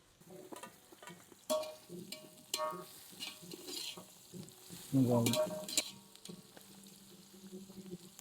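Onions and green chillies frying and being stirred in a pot for chicken dum biryani, a soft steady sizzle with scraping spoon stirs and a few louder clanks.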